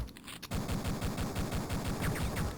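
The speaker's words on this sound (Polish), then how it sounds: "pistolet to nie jest najmocniejsza broń, ale w takiej konfiguracji warto go użyć" Rapid repeated gunfire from a pistol in the Duke Nukem 3D video game, a fast steady string of shots with no talk, fairly loud after a brief quieter start.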